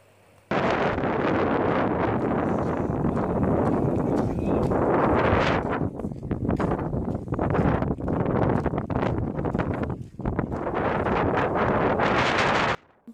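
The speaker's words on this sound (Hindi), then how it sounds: "ठंडी ठंडी हवा चल रही है" Cool wind blowing outdoors hits the microphone as a loud, continuous buffeting roar that lasts almost the whole stretch, with brief dips, and no talk is heard.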